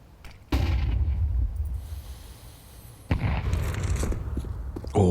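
A grenade detonates in Counter-Strike during a professional ESL Pro League match: two heavy booming blasts, one near the start and another midway, each followed by a rumbling tail, with a third burst at the very end.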